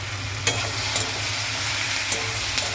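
Cumin, chili and turmeric powders fry in a pan for chili chicken with a loud, even sizzle, and a spoon taps and scrapes a few times while stirring. No voices are heard.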